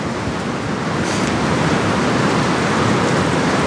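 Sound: storm surf waves splashing on the shore

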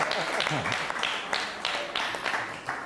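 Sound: applause in a classroom

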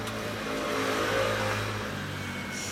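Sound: Kawasaki Ninja ZX-14R motorcycle with Yoshimura exhaust revving

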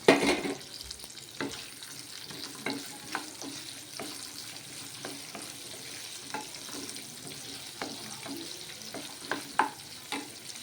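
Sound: onions and curry leaves frying in a pan

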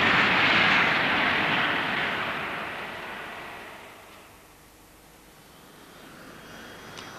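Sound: Provost training aircraft engine

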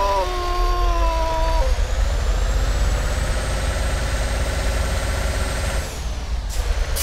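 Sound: Volvo truck engine revving in Euro Truck video game

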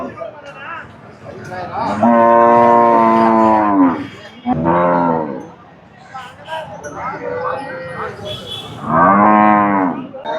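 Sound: Sindhi Jersey cow mooing at cattle market

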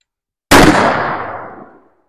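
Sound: AK rifle gunfire through a pool table

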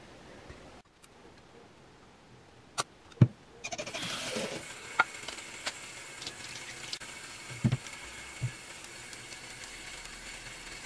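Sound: running water while washing makeup brushes

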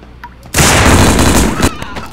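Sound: shotgun firing in a video game

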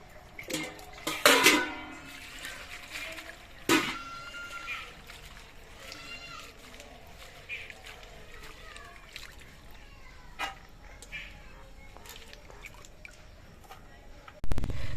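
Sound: washing radish stalks in water

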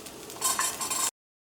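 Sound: chopped vegetables sautéing in pan with garlic, ginger, chilli

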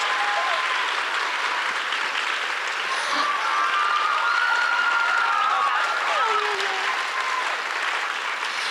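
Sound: audience applause at ballet awards ceremony

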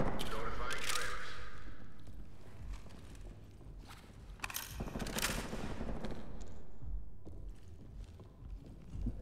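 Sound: gunfire in the video game Ready Or Not

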